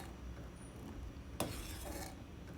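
A spoon stirs rice kheer in a pot, scraping and clinking softly against the metal in a steady, low-level rhythm, with one sharper clink partway through.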